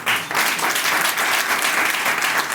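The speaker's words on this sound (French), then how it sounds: "Acclamez pour le grand frère." An audience bursts into applause at a product training session in Togo, a dense, steady clapping that stays loud and fills the whole short moment.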